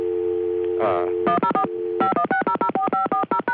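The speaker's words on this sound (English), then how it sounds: "He can do it very easily by dialing 104 for a second dial tone, 516004 for Hempstead, and then 540." Touch-tone telephone keypad dialing on an early-1980s line: a steady dial tone broken by a brief chirp, then a rapid series of about fourteen crisp DTMF beeps in quick clusters, loud and close.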